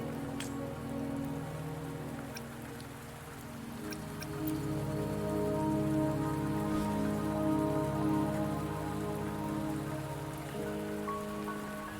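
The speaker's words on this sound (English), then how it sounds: "Don't worry, the rain won't last much longer." Steady rain falls in a mountain scene in the video game Wuthering Waves, making a continuous soft patter of drops on surfaces that swells slightly midway.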